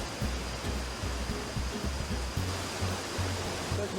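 Mac Falls waterfall in Mpumalanga, South Africa, roars steadily as a dense, unbroken rush of falling water heard close up, with a deep rumble underneath and no voices.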